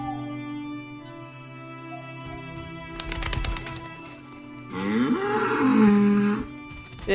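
A cow moos in The Witcher video game, with a short moo near the middle and a longer, louder one toward the end over a steady game ambience with faint bird calls. No one talks.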